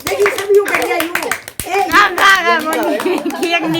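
Hand clapping at a home birthday celebration for a girl named Riya, claps under steady talk from an adult and a voice nearby.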